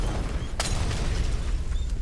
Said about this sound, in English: Wow, that was a lot of explosions.